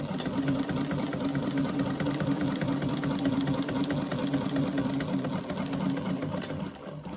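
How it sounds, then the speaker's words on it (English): A sewing machine runs steadily, stitching the side seam of a crossbody bag. The motor hum and rapid needle rhythm are close, loud and continuous, easing off briefly near the end. "I'm just going to sew the other side."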